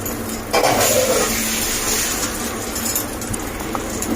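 Water pours and sizzles into a hot pan of pomfret fish curry, a bright hiss that starts sharply then settles into a steady bubbling simmer, close and alone.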